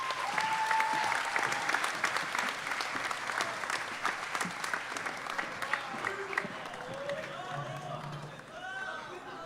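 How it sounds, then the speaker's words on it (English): A school audience applauds, a thick burst of clapping that carries on for several seconds and then gradually thins out, with scattered voices and chatter coming through as it fades. "Please give Leonor Fernandes and Diana Neves a round of applause."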